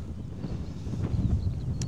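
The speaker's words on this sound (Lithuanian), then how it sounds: "čia irgi vėjas didžiulis" Strong wind on a road trip through Lithuania buffets the microphone in a steady low rumble, loud and continuous with gusty swells throughout.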